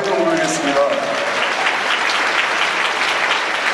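A church congregation bursts into loud, dense clapping that holds steady, with a voice briefly heard at the start before the applause fills the room.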